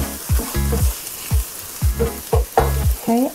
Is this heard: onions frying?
yes